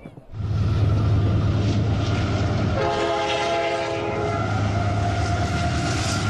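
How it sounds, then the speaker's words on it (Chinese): A train on the Qinghai-Tibet railway crossing the high plateau rumbles steadily, and a loud sustained horn blast sounds midway over the continuous rolling noise. "青藏铁路上的列车将横穿高原的生命禁区"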